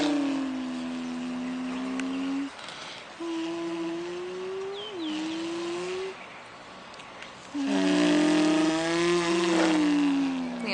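A young child imitates a car engine with a sustained humming vroom that rises and falls in pitch, broken into three long drawn-out bursts, close to the listener, with outdoor background noise.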